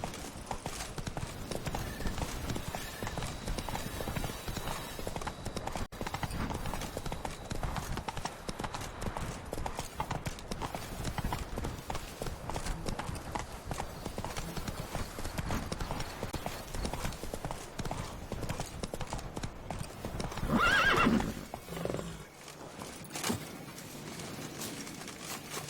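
Horse hooves gallop without pause in The Witcher 3, a dense, continuous clatter of clip-clop beats up close, with a brief louder burst of movement near the end before the hoofbeats carry on.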